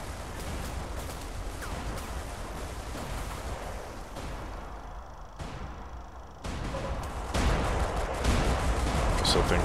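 Cannon fire and explosions from the iBomber Defense Pacific video game rumble almost without pause, dense rolling booms with a few brief dips before the barrage swells louder near the end.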